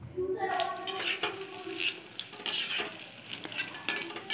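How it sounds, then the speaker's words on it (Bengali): Onion-greens pakoras fry in hot oil with a steady crackling sizzle, broken by the scrape and clink of a utensil stirring in the pan, close and fairly loud throughout. "এবার এগুলো ভালো করে ভেজে তুলে নিতে হবে।"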